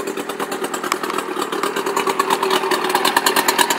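A 2008 Lowe Stinger 170 boat's outboard engine idles close and loud with a steady, rapid, slightly rough putter throughout, with no voices.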